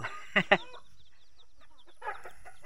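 Native chickens on a farm cluck in two quick close bursts, then go quiet with soft scattered chirps, and a few more faint clucks follow.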